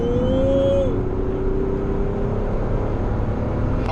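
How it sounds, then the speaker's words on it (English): A 1980s Volkswagen Corrado engine revving in third gear while driving, a steady engine drone whose pitch rises briefly at the start and then settles under road noise. "So I can drop it to third gear and rev it."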